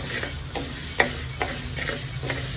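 Ingredients for idli powder dry-roasting in a pan give a soft, dry rustle with a run of regular light scraping strokes from a spatula, fairly close and quiet.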